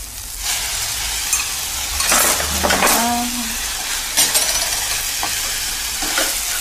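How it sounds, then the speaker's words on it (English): Beaten egg hitting a hot pan and frying, with a steady sizzle, scraping stirs, and brief metallic clinks of a utensil against the pan. "an egg, which does need to be beaten because you haven't got time once you throw it in the hot pan"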